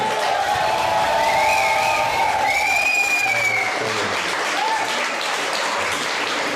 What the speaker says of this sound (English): Look at that applause, brother